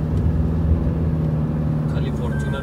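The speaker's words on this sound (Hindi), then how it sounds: "खाली फॉर्च्यूनर की आवाज आ रही है" A Toyota Fortuner SUV engine drones steadily as it drives along a forest road through the Dang jungle of the Sahyadri range in monsoon, a constant close low rumble throughout.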